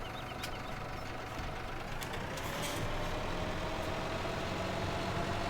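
A Case tractor engine runs steadily in Farming Simulator 17, a low diesel drone with a brief hiss of air releasing partway through and a slight rise in level toward the end.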